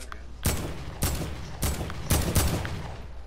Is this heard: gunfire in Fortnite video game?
yes